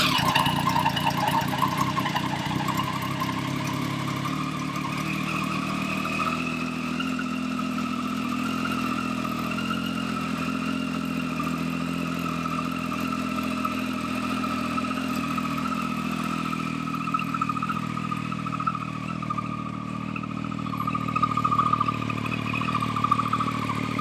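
A motorbike engine idles steadily while warming up, holding a constant low, mid-pitched hum with a faint whir over it, close and alone throughout.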